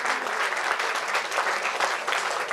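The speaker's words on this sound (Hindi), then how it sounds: "तालियां बजाएंगे" At a Vigilance Awareness Week awards ceremony, an audience gives a prize winner steady applause. The clapping is loud, dense and continuous throughout.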